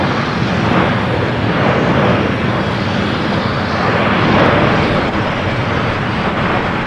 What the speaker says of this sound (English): It's the 787-10 Dreamliner coming in from Newark